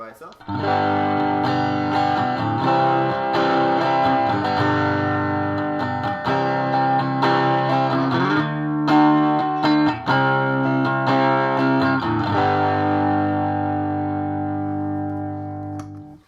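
Homemade Telecaster with single-coil pickups played through a Roland JC-40 combo using the amp's built-in distortion, a steady run of loud, sustained overdriven chords and notes with no talking.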